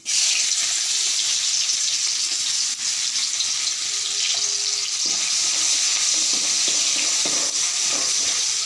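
Chopped onions fry in a little oil in a kadai with a steady, close hiss of sizzling, punctuated by a few stirring knocks and scrapes toward the end.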